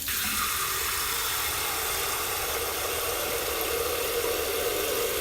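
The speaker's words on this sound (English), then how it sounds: "So I'll just let the tap get hot." Hot water runs from a kitchen tap in a constant, even hiss of flowing water that stays loud and unbroken throughout.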